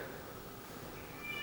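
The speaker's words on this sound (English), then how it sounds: "I'm sorry if you hear my cats in the background." Pet cats meowing faintly in the background of an indoor room, soft and partly buried under low steady noise, with a thin higher call near the end.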